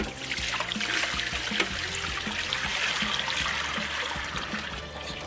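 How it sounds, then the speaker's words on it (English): Water from an Aqueon aquarium canister filter is poured into a sink, making a continuous close splashing gush and gurgle that holds steady throughout. "We're gonna dump this into the sink."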